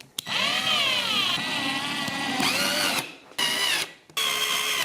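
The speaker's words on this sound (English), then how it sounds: "So now we can put our screws in." A power driver sinks screws into a DIY standing desk frame, whining loudly in long rising and falling bursts, then two shorter bursts separated by brief pauses, close up with no talking.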